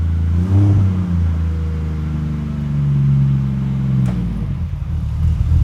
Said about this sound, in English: So stainless exhausts do sound different to a mild steel one